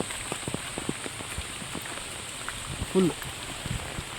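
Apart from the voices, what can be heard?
rain falling on a forest road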